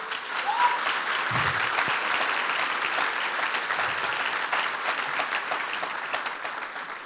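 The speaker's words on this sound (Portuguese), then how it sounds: "Você pode aplaudir ao Senhor" A church congregation applauds during a sermon, filling the room with loud, sustained clapping from many hands, with a short low thump early on.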